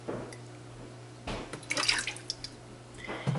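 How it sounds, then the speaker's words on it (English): Vegetable oil is poured into a mixer bowl, making a short liquid trickle with soft drips and splashes over a low steady hum. "I'm going to put 1 cup of vegetable oil in here."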